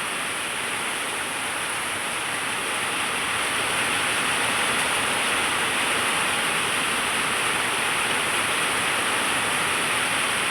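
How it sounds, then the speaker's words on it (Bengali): Heavy winter rain pours down in Basirhat, a loud, unbroken roar of dense rainfall that stays even and close from start to finish with no voices. "আর আওয়াজ শুনে বুঝতেই পারছেন যে কতটা বৃষ্টি হচ্ছে এবং প্রচণ্ড জোর একটা বৃষ্টি"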